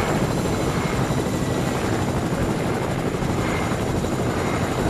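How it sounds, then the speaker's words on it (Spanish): A helicopter in the video game Fortnite, its loud, continuous rotor and engine roar filling the moment close by, steady without letup. "Me llevo este helicóptero."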